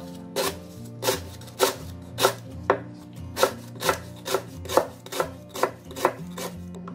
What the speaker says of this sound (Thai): นำตะไคร้มาหั่นเลยค่ะ